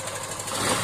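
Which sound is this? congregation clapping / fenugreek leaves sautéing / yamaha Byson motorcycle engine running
yamaha Byson motorcycle engine running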